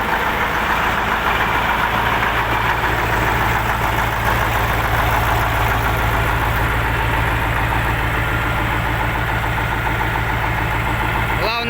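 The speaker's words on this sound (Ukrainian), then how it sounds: "такий тракторець, народ" A wheeled T-150 tractor, recently repaired, idles loudly and steadily, a constant low throbbing drone from start to finish.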